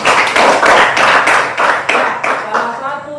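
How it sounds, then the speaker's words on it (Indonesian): Classroom applause from a group of students, a dense stretch of hand clapping with rhythmic pulses that thins toward the end, close and fairly loud. "Berikan tepuk tangan."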